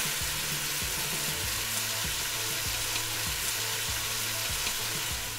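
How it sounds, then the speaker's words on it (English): Vegetables sweating and softening in a pot for Mediterranean chickpea soup, an even, loud sizzle and crackle heard up close with stirring knocks underneath, no one speaking. "what we're looking for here is just to kind of get the veggies working and sweating and softening"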